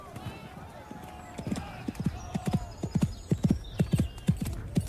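Cavalry horses ride around with sabres, their hooves clip-clopping in an uneven, quickening rhythm that grows louder and closer, a horse whinnying briefly, while someone speaks over the scene.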